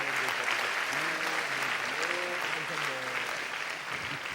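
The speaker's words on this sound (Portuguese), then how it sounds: "Pode aplaudir ao Senhor." An audience claps steadily throughout, with a voice speaking and laughing over the applause in the foreground.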